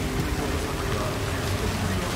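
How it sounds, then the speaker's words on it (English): Steady rain falling across Night City in the video game Cyberpunk 2077, a dense continuous hiss of drops on surfaces holding even and loud for the whole stretch. "We back at Night City and it's raining."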